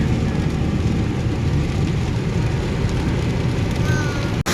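Steady, dense rain roars continuously and fairly loud from close by, a broad hissing patter that holds throughout with no voices over it.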